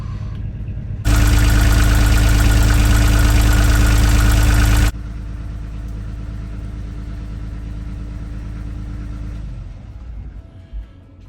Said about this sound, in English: Just got the starboard engine running on idle.